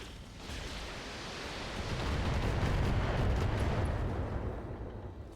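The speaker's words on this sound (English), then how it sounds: "Good ammo explosions." A sustained roar of mech ammunition explosions in the video game BattleTech (2018) rumbles and swells, building louder midway before easing slightly, a thick wash of booming blasts.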